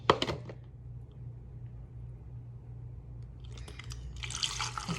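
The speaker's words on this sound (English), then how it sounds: "now I'm going to be transferring this to my spray bottle" Rice water splashing and trickling into a spray bottle, with a soft steady rumble underneath and a brighter rush of pouring toward the end.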